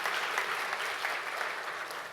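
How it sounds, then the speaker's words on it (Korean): During a university presidential inauguration ceremony at Handong University, a large audience claps in a steady, dense wash of applause that continues evenly throughout. "우리 큰 박수 부탁드립니다"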